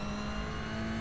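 A Toyota GR86 race car accelerates in the iRacing sim at Miami, a steady droning engine note with a strong constant tone, fairly quiet and heard alone for about a second.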